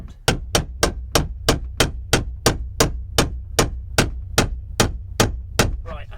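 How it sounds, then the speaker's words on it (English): A blunt chisel taps a diesel fuel tank pickup round in an even rhythm, about sixteen sharp metallic knocks roughly every third of a second, loud and close with no talking. "get your your blunt chisel or lever of some sort. Start tapping it round."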